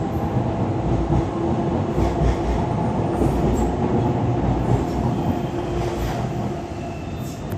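A train passes at a station with a continuous heavy rumble and rattling wheels, loud and close, easing slightly toward the end.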